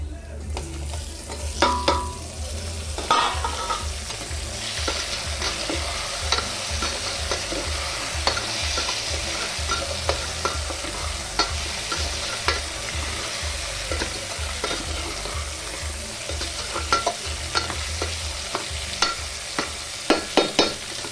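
Tomato and tamarind frying in a pan for anchina papu, a continuous close sizzle with repeated stirring and spatula scrapes throughout, no voices.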